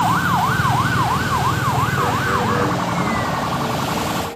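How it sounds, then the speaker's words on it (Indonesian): Electronic wailing siren from a toy police car, a rapid rising-and-falling warble that is loud and close for about two and a half seconds, then fades into a softer buzzing tone over steady background noise. "Mobil polisi."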